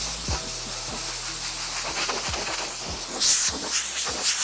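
Car bodywork on a rear quarter panel being sanded by hand with Sunmite P180 sandpaper, a soft scratchy rasp under steady background hiss with faint rhythmic low thumps.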